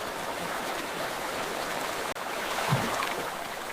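Creek water flows in a winter Yellowstone setting, a steady broadband rushing and gurgling heard close and moderately loud without interruption.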